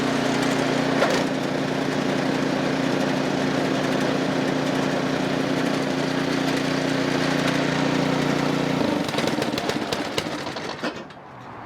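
A Poulan Pro PR241 snowblower engine runs at a steady, droning idle for about nine seconds, then cuts out and winds down to near silence with a few rattling clicks.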